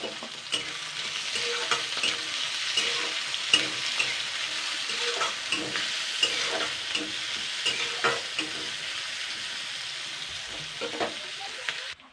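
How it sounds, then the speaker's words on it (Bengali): Onion frying with cumin and dried chili for kochu shak, a continuous sizzle broken by repeated spatula scrapes and knocks against the pan, close and steady, ending abruptly. "এবার পেঁয়াজটা দিয়ে দিচ্ছি পেঁয়াজটাকে কিন্তু হালকা লাল করে ভেজে নিতে হবে"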